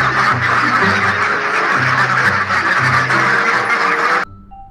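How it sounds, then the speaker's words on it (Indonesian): A duck quacks close by in a loud, repeated run of harsh calls that carries on for about four seconds, then stops abruptly. "Wow, lihat teman-teman, ini hewan bebek."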